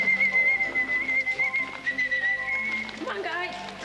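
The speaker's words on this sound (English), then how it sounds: "What we've trained the birds to do is to come to a call, a whistle." A trainer's whistle calls trained penguins, a thin, steady tone held for several seconds with a few slight wavers, over a busy background of voices and bird noise.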